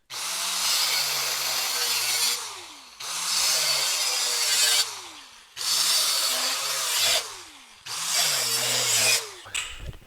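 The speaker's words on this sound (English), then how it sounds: "So I'm just going to use my cutting wheel" A cutting wheel slicing into a pickup truck bed to fit a headache rack, heard as four loud, sustained grinding cuts of a few seconds each with short pauses between, the tone dropping as the wheel bogs.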